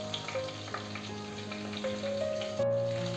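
Bay leaves, red chillies and cumin seeds sizzle in hot oil as a tempering for papaya and prawn ghonto, a steady close crackle with faint tonal hum beneath and a slight rise in loudness near the end.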